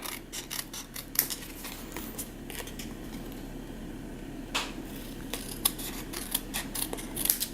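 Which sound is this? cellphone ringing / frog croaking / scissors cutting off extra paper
scissors cutting off extra paper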